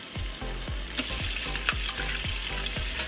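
Spices fry in a pan for Bukhari rice while being stirred, with a steady hiss of sizzling oil broken by regular scraping strokes of the spoon every half second or so, close up and without speech.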